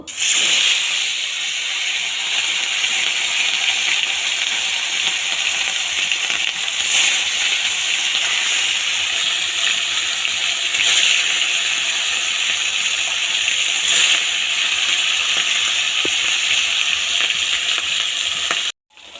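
Fish frying in hot oil in a wok (kadai) sends out a steady, dense sizzle and crackle that runs without a break, loud and close, with no voices over it.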